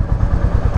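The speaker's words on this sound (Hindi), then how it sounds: "और एग्जॉस्ट भी आपको सुना देता हूँ" Royal Enfield Classic 350 motorcycle exhaust idling up close, a deep, rapid, even thump-thump pulse that is loud and runs without a break.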